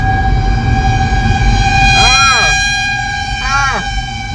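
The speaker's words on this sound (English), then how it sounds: "There is some kind of a siren." A loud siren holds a steady tone, and two rising-and-falling wails sweep over it, one after the other, above a rumbling background.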